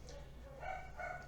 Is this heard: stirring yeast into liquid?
no